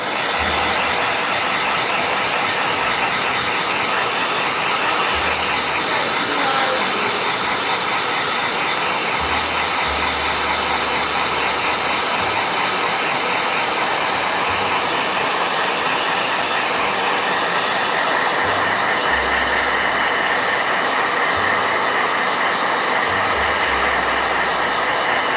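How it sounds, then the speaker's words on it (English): A blow dryer running continuously, with a steady loud rushing hiss held at an even level throughout, near and alone without pauses. "Blow dryer."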